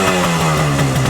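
A neatly restored vintage Yamaha RD 350 motorcycle engine runs loud and close, with a continuous buzzing drone and small pulsing surges as the throttle is blipped.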